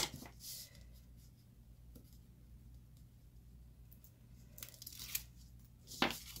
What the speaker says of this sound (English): I've got a piece of tear and tape.